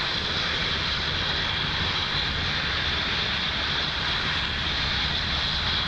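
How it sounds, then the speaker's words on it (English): A SpaceX Falcon 9 rocket lifting off from Pad 40 at Cape Canaveral produces a continuous, dense, broadband roar that holds steady and loud throughout, with heavy low rumble and no breaks. "Falcon 9 has successfully lifted off from Pad 40 at Cape Canaveral"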